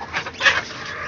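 Country chickens kept on a Chennai rooftop terrace, young rooster among them, give a short clucking outburst midway, close and moderately loud over faint background noise.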